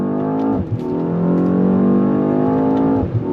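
2025 Mercedes-AMG S 63 accelerating hard in manual shift mode with paddle shifters, a loud close engine roar rising in pitch with a quick shift, then climbing again.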